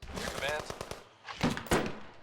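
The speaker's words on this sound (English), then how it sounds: "Somebody's got a shotgun, or an assault rifle." Shotgun or assault rifle gunfire in the game Surviving the Aftermath, with a quick rattling burst of rapid shots followed by two heavier blasts, all close and loud.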